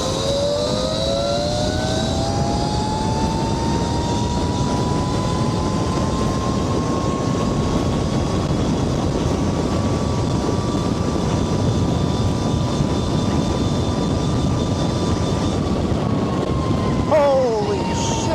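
72V Tuttio electric motorbike speeding uphill, a loud sustained electric motor whine climbing gradually in pitch over heavy wind rush, then dropping sharply near the end.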